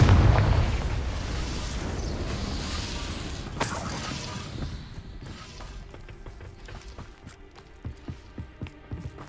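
A Confringo fire spell bursts in Hogwarts Legacy: a loud, booming blast at the start that fades into scattered crackles and sharp clicks.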